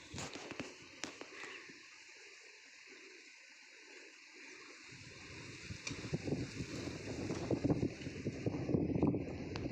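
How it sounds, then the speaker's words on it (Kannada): Gusty wind buffets the microphone on a hilltop, rumbling low and strengthening toward the end, with no talk. "ಎಷ್ಟು ತುಂಬ ಗಾಳಿ ತುಂಬ ಗಾಳಿ ಚೆನ್ನಾಗಿ ಗಾಳಿ ಬರ್ತದೆ"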